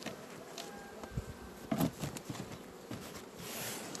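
Honeybees buzz around a hive feeder fitted with a mesh screen, a steady close insect hum with light tapping and handling noises.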